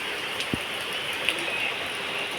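Steady rain falls as a dense, even hiss, with occasional sharper drips and one low thud near the start, and no voices.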